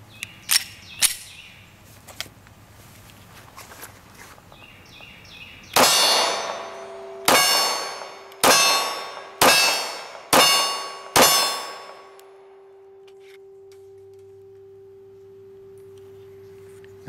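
Glock 43 pistol firing Gold Dot G2 147 grain rounds: six sharp, loud shots in an irregular but fairly quick sequence, each with a ringing metallic tail, followed by lingering quiet hum.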